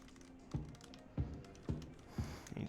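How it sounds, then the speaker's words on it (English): Keystrokes on a computer keyboard come in four or five distinct taps about half a second apart, close and moderately clear over a quiet background. "Sorry about the quiet. I'm typing."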